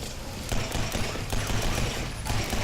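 Rapid bursts of gunfire are aimed at salamanders in a subway in the shooter game Legendary, coming as a dense, loud, close volley of repeated shots with no break.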